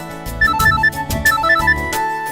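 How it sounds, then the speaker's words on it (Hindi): A mobile phone ringtone for an incoming call in a Hindi TV drama, a bright repeating electronic melody of short notes in two phrases, loud and close with nothing else over it. "ये फोन किसका आ गया?"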